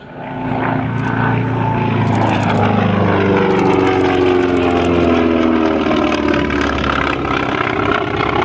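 A Grumman Wildcat propeller fighter passes overhead at an air show, its radial engine droning loudly with a falling pitch as it goes by, the roar swelling and slowly easing away.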